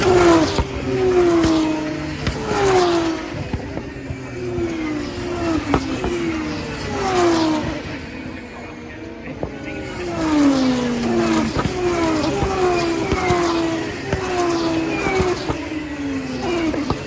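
Formula 1 race cars roar through repeated upshifts at a sprint race start, several engines rising in pitch one after another, loud and close with no talk.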